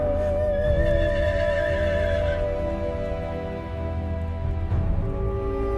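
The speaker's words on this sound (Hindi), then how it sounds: "रथशालाओं में अश्वों की हिनहिनाहट।" Horses whinny and neigh over a sustained musical backdrop, with a faint clip-clop of hooves underneath.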